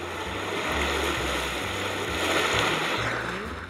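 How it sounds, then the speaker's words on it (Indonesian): Ocean waves sound effect chosen from a stock audio library: a steady, loud wash of surf and water noise with a wind-like roar, continuous throughout and heard without any voices. "Di sini aku masukkan kata wave atau ombak dan pilih salah satu dari audio yang tersedia."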